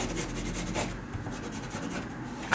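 Pencil or marker scratching across paper while tracing a pencil skirt pattern with a cut, a steady close dry scribbling rasp running for a couple of seconds with no talk.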